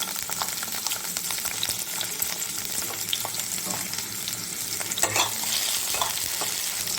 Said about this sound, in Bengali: এবার একটা বড় সাইজের টমেটো কুচি করে ভেজে নিচ্ছি।